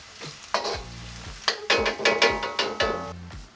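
Black beans, garlic, chilies and spring onions fry in hot oil in a wok, a steady loud sizzle broken by repeated scraping strokes of a spatula against the metal.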